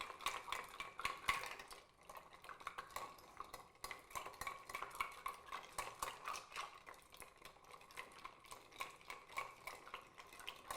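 A cocktail stirred over ice shards with a bar spoon in a mixing glass for a Turf Club, producing rapid rhythmic clinking and swirling rattles that repeat steadily, close and fairly quiet.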